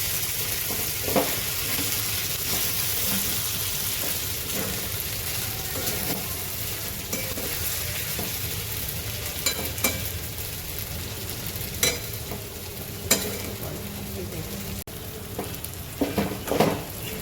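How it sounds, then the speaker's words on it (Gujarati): Sabudana khichdi cooks in a pan over low heat, a continuous soft frying sizzle with occasional spoon clinks and stirring scrapes, heard close for a long stretch. "આને આપણે ધીમે તાપે 4-5 મિનિટ જેવું રહેવા દઈશું।"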